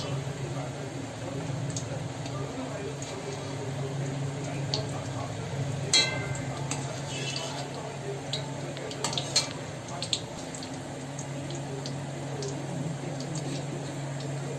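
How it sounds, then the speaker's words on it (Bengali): Goja sweets frying in hot oil, a low continuous sizzle with scattered clinks of utensils against the pan. "তেলে ছাড়ছি। হ্যাঁ, এগুলো ভাজা হয়ে গেলে ফুলে যাবে গজাগুলো"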